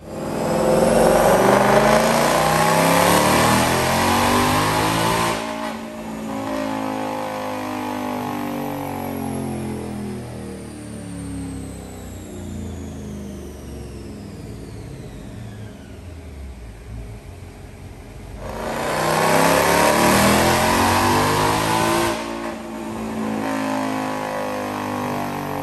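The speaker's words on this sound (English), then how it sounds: "but I'll go check out this dyno pull." A supercharged Roush 2021 Ford Mustang GT V8 revs hard on a dyno, its roar climbing steadily through the gears with rising supercharger whine, easing off midway, then surging loud again near the end.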